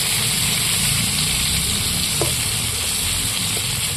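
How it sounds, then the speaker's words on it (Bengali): Eggplant and beans sizzle loudly in hot oil as they are stirred, a dense, constant frying hiss with a couple of faint scrapes. "এইটা একটু তেলের মধ্যে নাড়াচাড়া করতে করতে দেখবে লাল করে একটু ভেজে নেব"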